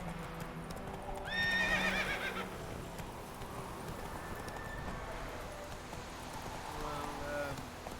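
Roach the horse in The Witcher 3 gallops with rapid hoof clip-clops, then lets out a loud high neigh near the start and another whinny later, over steady outdoor game ambience.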